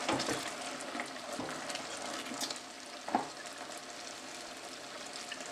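Cashews simmer in sugar syrup for cashew brittle, a steady soft bubbling sizzle with occasional stirring scrapes, close and fairly quiet, with no talking.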